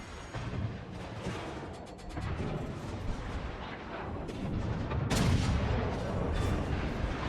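Naval battle in World of Warships Legends as an enemy destroyer blows up, with heavy booms and gunfire rumbling continuously, louder bursts near the end.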